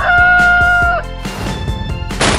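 A rooster crows and a chicken clucks in a clear, close, loud burst, followed by a few sharp clucks and a crash-like noise at the end.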